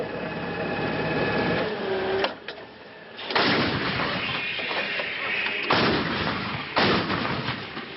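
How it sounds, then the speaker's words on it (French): Coalition artillery firing illumination shells over Mosul at night, several heavy booming blasts at intervals over a rumbling, mechanical background, with a brief voice near the start. "Ce soir, le ciel de Mossoul s'illumine des obus éclairants de la coalition"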